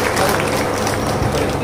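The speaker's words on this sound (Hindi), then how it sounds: "जोरदार तालियां इन बच्चों के लिए।" Audience at a Haryana Uday district event applauding honoured children, a loud, dense burst of clapping that fills the short moment evenly.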